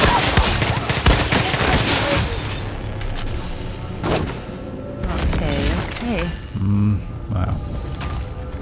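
Weapons firing in the Far Cry 6 video game, a busy run of dense gunshots and bursts mixed with booms and game effects, loud throughout, with talking over parts of it.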